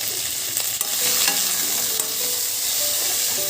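Marinated local chicken drops into hot oil in a pan and sizzles loudly and steadily up close, with a few stirring scrapes and clanks near the start.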